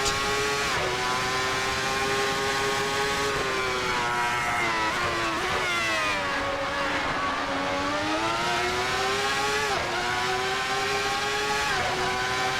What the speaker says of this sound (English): It takes a long time to get up through the gears.